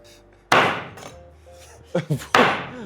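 Crisp mlinci flatbread is broken by hand into a bowl in a home kitchen: a loud crackling snap, a few small cracks, then another snapping burst, with talk audible in the quieter gaps.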